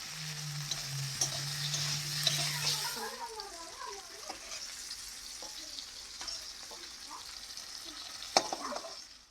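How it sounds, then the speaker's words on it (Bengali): Tomatoes lightly frying in a pan for prawn do-pyaza, a close sizzle with stirring scrapes, a brief hum early on, and a sharp clatter near the end. "টমেটোটাও হালকা করে ভেজে নেবো"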